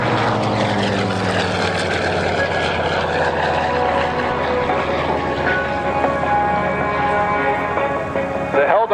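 A Helldiver propeller warplane roars past at the National Warplane Museum airshow, its loud, droning engine sweeping downward in pitch as it passes close overhead.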